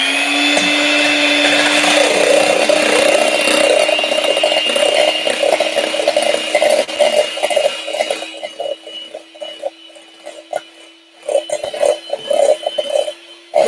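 An electric whisk beats meringue for macarons in a steady, loud motorized whir with rattling, the motor tone holding throughout while the beating turns choppier and more uneven toward the end.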